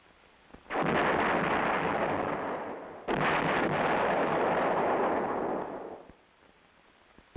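A corps general support field artillery gun fires twice in succession, each shot a heavy roaring blast that sustains for a couple of seconds before cutting off, loud and alone.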